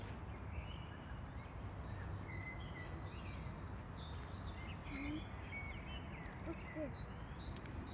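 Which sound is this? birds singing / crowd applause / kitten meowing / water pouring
birds singing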